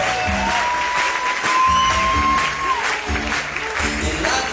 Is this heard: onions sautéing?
no